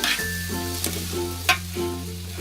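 Rice and fried mung dal being mixed in a pan for vegetarian bhuna khichuri, a steady loud sizzle under occasional scraping strokes of a spoon, no talking.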